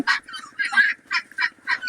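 Pekin ducks quack and honk in short, loud, regular bursts at a duck hatchery, close by and with no talk.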